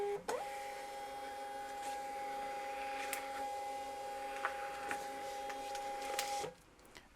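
A Bluetooth thermal label printer runs off several labels in one continuous mechanical whir with a steady tonal hum and small clicks, then stops abruptly near the end.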